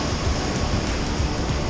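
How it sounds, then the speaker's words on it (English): Big ocean swell rolls in beneath a storm, a dense, steady roar of surf and wind noise that stays loud throughout, with no talking. "It's big waves, but a big swell out there"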